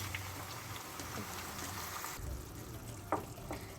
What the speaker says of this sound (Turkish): havucumuzu da hafifçe bir kavurduktan sonra yarım su bardağından biraz daha fazla olacak şekilde sıcak suyumuzu ekliyoruz